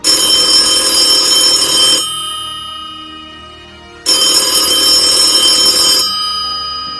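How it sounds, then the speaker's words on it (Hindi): An old telephone bell rings in two long, loud bursts of about two seconds each, separated by a two-second pause as the ringing decays, with no one speaking. "घंटी बजी।"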